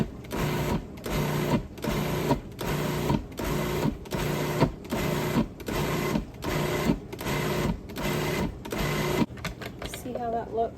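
A food processor pulses garlic cloves with oil in a farm kitchen, about ten short even bursts in a regular rhythm, loud and close, before a brief pause.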